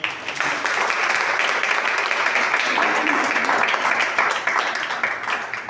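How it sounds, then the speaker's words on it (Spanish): Church congregation clapping loudly and steadily together, a thick, sustained round of applause that fades slightly near the end, with some voices mixed in. "Denle un aplauso al Señor."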